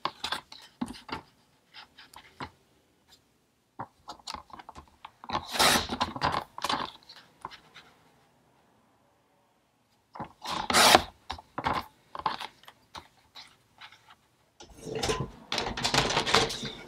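Paper is cut into hinge strips for a handmade book, heard as close, crisp bursts of cutting and rustling in clusters separated by quiet pauses, with no talking.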